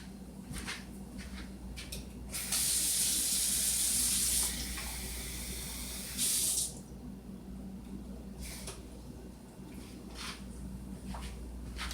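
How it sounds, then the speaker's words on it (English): Water splashes into baking dishes for blueberry cobbler in two pours, a longer stream and then a brief one, amid quiet kitchen clatter. "And then I'm going to add a 1/2 cup of water to each one."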